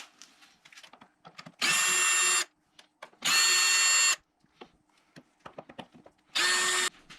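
Power tool spinning out the airbox cover screws on a Yamaha XT600 motorcycle, three loud steady whirring bursts of about one to two seconds each, separated by quieter clicks and handling noise.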